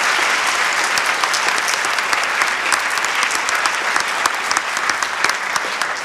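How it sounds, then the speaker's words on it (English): An audience applauds the speakers at an event on the Fred Korematsu story, with dense, sustained clapping that stays loud and even for the whole stretch. "if we could give a round of applause for all of our speakers again here today"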